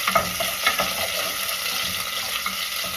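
Garlic and ginger frying in cooking oil in a pan, a steady close sizzle with faint stirring scrapes throughout, no voices.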